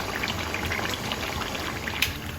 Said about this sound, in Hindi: चलिए हमने बिरयानी का पानी रख दिया है चावल उबालने के लिए।